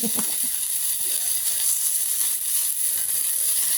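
Dried fish (daing) frying in a little oil, a continuous bright sizzle and hiss that stays even and close, with a few faint clinks near the start.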